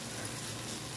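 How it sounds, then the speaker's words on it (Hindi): Sunn hemp flowers frying in a pan produce a steady, soft sizzle, close by and constant for the full second, with no voices. "सनई का फूल गुलाबी गुलाबी भुन गया है"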